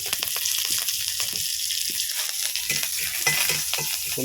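Tomatoes and curry leaves fry in a hot pan with a loud, constant sizzle and crackle, close up, and soft intermittent stirring taps underneath.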